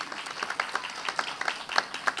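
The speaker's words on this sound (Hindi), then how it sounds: "तो इन दोनों के लिए जोरदार तालियां।" Audience applause at a Hindi community forum's first anniversary celebration, a dense patter of many hands clapping at moderate distance, fairly steady with a few sharper claps standing out.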